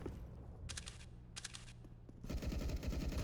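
Gunfire in the shooter game CS:GO comes in two short rapid bursts, then gives way to a denser, louder stretch of firing and crackle.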